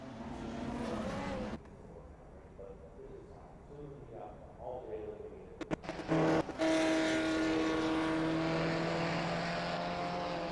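Race car engine in a racing video game, a steady droning whine with shifting pitch that cuts out briefly and then resumes loud and sustained through the second half.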